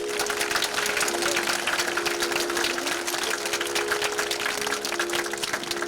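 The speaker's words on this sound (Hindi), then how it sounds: "अपने लिए एक बार जोरदार ताली लगाइए सभी लोग।" At a cultural fiesta dance celebration in Lucknow, an audience claps loudly, a dense, continuous wash of applause that stays strong throughout.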